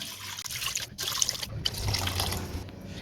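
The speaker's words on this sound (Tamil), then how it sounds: "நான் மொத்தத்தில் ஒரு லிட்டர் அளவு தண்ணி ஊற்றிருக்கேன்" Water poured from a vessel into a cooking pot of beef bones for Tamil-style beef paya, a steady close splashing pour running without pause for about three seconds, with no talking.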